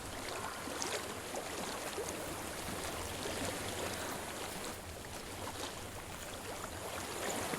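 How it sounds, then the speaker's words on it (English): Steady flowing stream water in the video game Hellblade: Senua's Sacrifice, a constant broadband rush and babble that stays even throughout, with no talk over it. "I hear water. Go to it."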